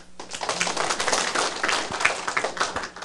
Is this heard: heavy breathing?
no